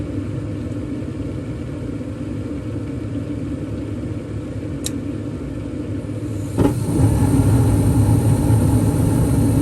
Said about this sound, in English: Next, we'll have our hot surface igniter. gas valve will kick on.